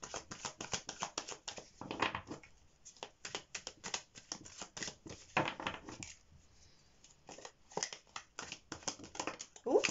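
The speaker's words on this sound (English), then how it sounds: "Let's give these cards a little shuffle" Tarot cards are shuffled by hand in bursts of quick riffling and flicking, close and fairly quiet, with short pauses between rounds and no voices over it.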